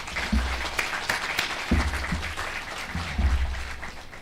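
Audience applause at a valedictory ceremony for an international moot court competition: steady clapping from a crowd, moderately loud throughout, with scattered louder claps and a low rumble.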